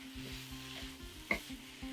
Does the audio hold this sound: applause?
no